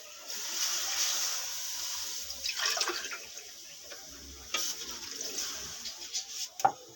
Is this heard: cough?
no